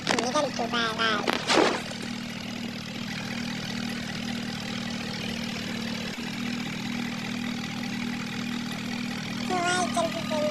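A Swaraj tractor in a video game runs with a steady, droning engine hum throughout, while someone talks over it at the start and again near the end.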